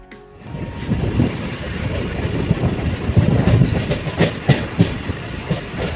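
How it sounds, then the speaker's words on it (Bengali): Commuter train pulling out of platform 2 at Sealdah station in Kolkata: a loud, close rumble of rolling stock with rhythmic wheel clicks and clatter that grows more pronounced as it gathers pace. "শিয়ালদার ২ নম্বর প্ল্যাটফর্ম থেকে কিন্তু ট্রেন ছেড়ে দিয়েছে, তোমরা দেখতেই পাচ্ছ।"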